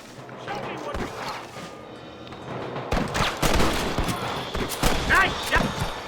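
Gunshots in Red Dead Redemption ring out in a burst of sharp cracks after a quieter stretch, repeated shots layered over game voices and background clatter.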